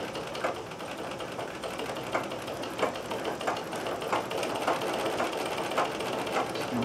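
A restored vintage Necchi Nora sewing machine runs steadily for thread painting, giving a close, even mechanical whir with a soft rhythmic ticking and no voices.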